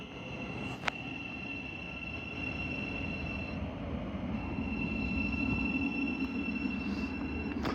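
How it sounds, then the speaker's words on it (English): A non-stopping train passes through the platform at Hatfield station in Hertfordshire, a steady rushing rumble of wheels and carriages that swells slightly, with a sharp click near the start and a faint high whine throughout. "the next train is actually not stopping here."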